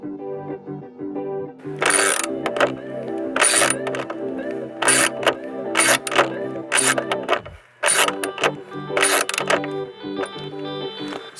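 Bolts being snugged up around the grille of a brand-new Toyota Tacoma with a power tool, giving repeated short whirring bursts separated by brief pauses, close and fairly loud.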